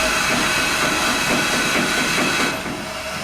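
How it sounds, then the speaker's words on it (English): Steam hisses steadily from a heritage steam engine at a mountain railway museum as it gently lowers a counterweight after an ash dump, a close, continuous broadband rush that eases off near the end. "using the steam to control the descent nice and gently like that"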